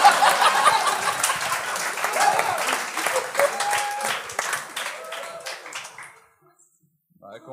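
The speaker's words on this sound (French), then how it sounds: "Encore un peu d'applaudissements, s'il vous plaît" An audience at a comedy show applauds for a comedian, with close, lively clapping and a few chuckles that fade out to near silence after about six seconds.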